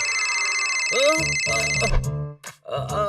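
A mobile phone ringtone plays on and on without being answered, a bright electronic melody with a voice heard over the later part.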